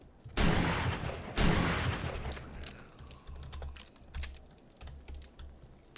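Gunfire in the survival game 7 Days to Die: two loud, booming shots about a second apart, followed by quieter, scattered clicking from a keyboard.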